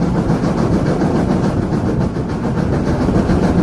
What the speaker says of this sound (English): The joys of a steam train ride.